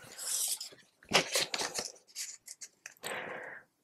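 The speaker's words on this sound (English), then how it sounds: "So I'm going to take one more sliver off the bottom and a sliver off the top just to even it up a little." Scissors trimming thin slivers off a piece of card, heard up close as several crisp snips and rustles in short bursts separated by brief pauses.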